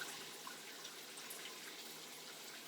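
Rice water poured over hair to rinse it while bent over a bathtub, heard as a steady, close splashing and trickling stream that runs without a break and with no talking.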